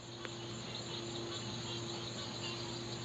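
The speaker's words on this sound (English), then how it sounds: "Hear the frogs?" Steady nighttime chorus of frogs in Florida, a continuous buzzing trill with constant tones, moderately loud and unbroken throughout, with no talking.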